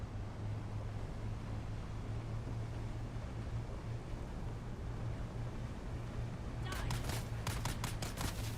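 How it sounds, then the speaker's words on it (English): Gunfire in Conan Exiles, a rapid volley of sharp shots arriving near the end over a steady windy, rumbling game ambience with a low droning tone, talk present in the background. "Stop shooting at us."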